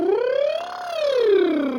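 A single voice imitates a siren in a choir vocal warm-up, gliding smoothly up to a peak and back down in one continuous buzzing tone with bright overtones, loud and close.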